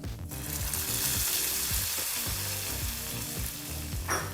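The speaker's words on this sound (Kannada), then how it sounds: "ಈಗ ಸಿದ್ಧವಾಗಿರ್ತಕ್ಕಂಥ ಒಗ್ಗರಣೆಯನ್ನು ಸಾರಿಗೆ ಹಾಕಿ ಮಿಕ್ಸ್ ಮಾಡ್ಕೊಳ್ಳೋಣ" Hot oil tempering poured into Karnataka-style lentil saaru (bele saaru) sizzles and crackles loudly and steadily, with stirring noises running through the whole stretch and no talking.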